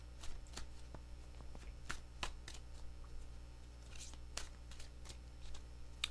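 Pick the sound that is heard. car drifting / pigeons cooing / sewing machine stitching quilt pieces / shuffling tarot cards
shuffling tarot cards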